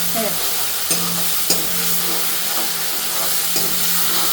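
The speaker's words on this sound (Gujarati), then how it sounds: "એને ખૂબ સાતળી લેવાનું છે તેલ ઉપર આવી જાય" Green chillies sauté in hot oil over a gas flame for a Kathiyavadi methi gatta curry, a steady close sizzle broken by a few sharp stirring knocks of a spoon against the pan.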